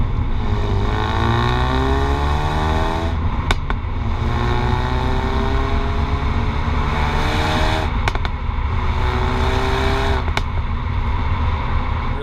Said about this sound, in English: you can get a few crackles there from the exhaust, nice few pops